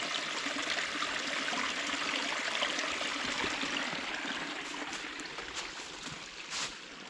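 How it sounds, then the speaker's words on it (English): Small cascade of stream water beside a hiking trail in the woods, a steady broad rushing and trickling that stays even and moderately near, with no voices. "Just a little cascade here."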